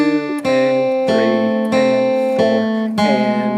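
A slow, clean melodic guitar phrase in D of distinct plucked notes, each sustaining and ringing before the next, played alone.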